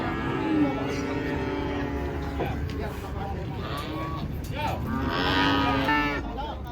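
Repeated long moos from very small cattle nearby as they come down from a truck, one call after another over continuous farmyard background, loud and sustained with wavering pitch.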